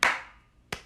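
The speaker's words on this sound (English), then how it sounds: "Slow applause for our runner." Two separate clapping sounds, a loud one at the start and a second about three quarters of a second later, slow and deliberate with a gap between.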